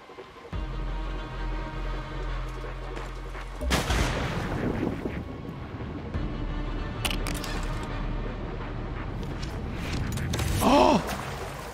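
A heavy gun called the Iron Curtain fires in the shooter Far Cry 6, loud booming bursts that start with a big blast and continue amid scattered explosions and game noise, with a brief gasp near the end.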